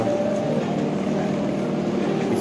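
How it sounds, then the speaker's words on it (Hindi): A helicopter carrying pilgrims from Katra approaches a rooftop helipad, heard as a loud, steady engine and rotor roar that stays constant throughout. "इसी हेलीपैड पर कटरा से श्रद्धालुओं को लेकर यहाँ पर हेलीकॉप्टर पहुँचता है"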